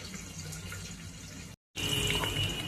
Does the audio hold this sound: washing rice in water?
yes